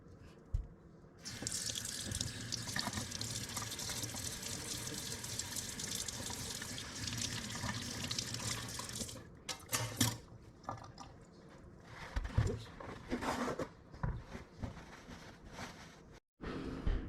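Water runs steadily from a tap for a long stretch while a relic is scrubbed with a wire brush, then splashes and gurgles unevenly as it is turned and interrupted.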